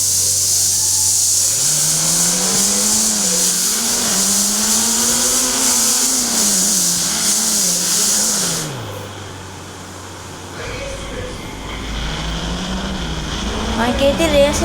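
Race car engine in a driving video game revving up at the race start, a loud rising and falling engine whine sustained for several seconds before easing off, then building again.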